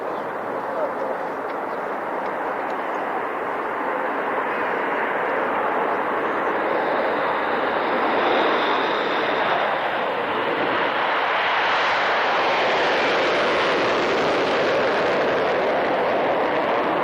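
A grey Tornado military jet taxiing along the runway at a 1996 Fairford airshow, a steady loud roaring jet whine with a rising high-pitched tone, while a commentator talks over it.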